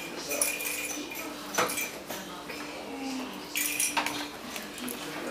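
A turkey wrapped in cheesecloth is flipped in a metal roasting pan with oven mitts, giving a few sharp metallic clanks and scrapes against a quiet kitchen background.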